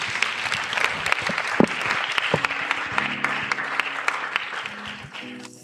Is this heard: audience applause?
yes